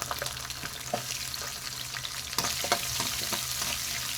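Chopped onions sizzle and fry in hot oil with urad dal and curry leaves for a tomato chutney, a close, steady crackle broken by sharp scraping stirs of a spoon in the pan.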